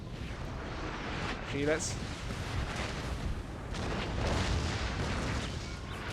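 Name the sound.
howitzer artillery fire in video game Napoleon Total War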